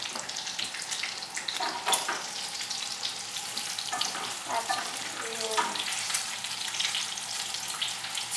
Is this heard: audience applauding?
no